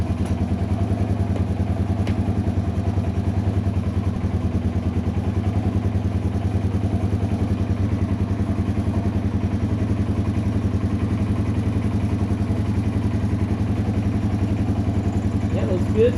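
A Yamaha TW200 motorcycle engine idles steadily, a constant low chugging throb that holds evenly throughout without revving.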